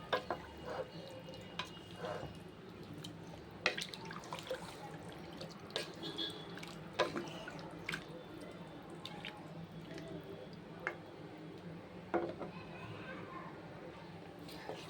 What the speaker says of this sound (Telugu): ఇప్పుడు ఇందులో మనము ఒక 3 గ్లాసెస్ ఆఫ్ వాటర్ వేసుకుందాం